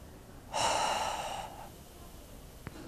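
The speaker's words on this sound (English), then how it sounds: "now we begin the process of breathing in, huffing" Strong forceful breath during a Daoist healing breathing exercise, one loud huff lasting about a second that trails off into a softer exhale, close and alone.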